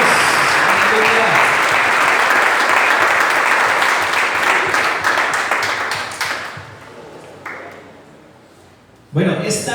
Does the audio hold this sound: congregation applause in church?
yes